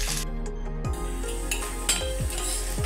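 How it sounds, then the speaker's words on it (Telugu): Finely chopped onion with green chillies frying in hot oil in a pan, a steady close sizzle with a few scraping stirs of a spoon against the metal. "ఉల్లిపాయ మంచిగా ఫ్రై అయిపోయింది కదా"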